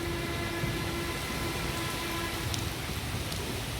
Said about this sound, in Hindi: तो आज का मौसम देखिए, इतनी तेज़ बारिश हो रही है आज सुबह से ही।